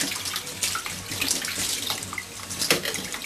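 A homebrewing fermenter lid rinsed under a running tap to wash off sanitising solution, giving steady close splashing and gushing water with uneven bursts as the lid moves in the stream, with no talking.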